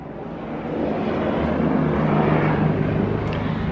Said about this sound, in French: L'hélicoptère qui passe.